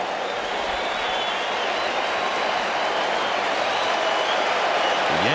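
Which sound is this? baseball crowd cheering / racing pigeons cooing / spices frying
baseball crowd cheering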